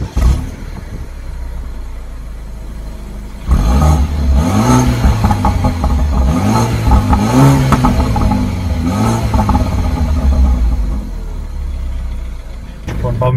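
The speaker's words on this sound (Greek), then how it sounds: "Εμείς τώρα πάμε να το κάνουμε και μια βόλτα, να δούμε πώς πάει, πώς οδηγείται στο δρόμο" A BMW 328i Limousine's engine starts on the road after a quieter stretch, rising and falling through several revving accelerations with gear changes, loud and close from inside the car.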